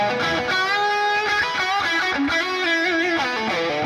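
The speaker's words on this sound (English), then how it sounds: "I'm using the Fort and Cali suite for my lead tones." Electric guitar lead tone through a Fortin Cali amp simulation plugin, a sustained, saturated melodic line with bends and held notes playing alone throughout.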